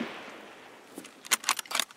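A few sharp, crackling bursts of gunfire in the shooter video game Escape from Tarkov arrive late, closely spaced, after a stretch of low hissing background noise.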